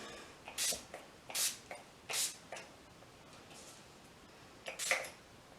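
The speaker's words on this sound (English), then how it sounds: "Next thing to do, last but not least, is the setting spray." Several quick, soft spritzes of makeup setting spray onto a face, about five short hisses spaced irregularly, quiet and close with no talking.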